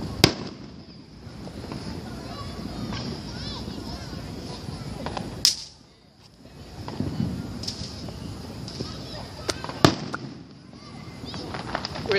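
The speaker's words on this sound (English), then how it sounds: "Glitter fireworks." Glitter fireworks bursting at a July 4th display, with repeated crackling blasts and sharp loud pops around 5.5 and 10 seconds, while children and adults chatter excitedly throughout.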